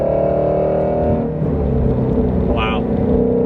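Shelby GT350 with its resonator deleted, the exhaust rumbling loud and close in a steady deep drone, with a brief rise near the end.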